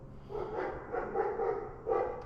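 A pet dog gives a few short, muffled barks and whimpers indoors, fairly quiet, in separate bursts with no talking.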